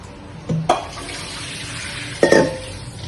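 Peeled garlic cloves rinsed in a bowl of water, with two brief splashy swishes and clinks standing out over a low, steady background.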